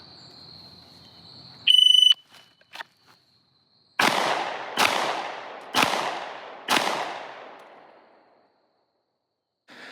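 Four pistol shots drawn from the holster in a timed drill, loud sharp cracks spaced evenly about a second apart, preceded by a shrill electronic timer beep.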